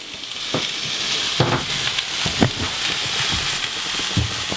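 Lentils cooking in a pan aboard a boat give a steady close sizzle, broken by irregular scraping knocks as the food is stirred, with no voices.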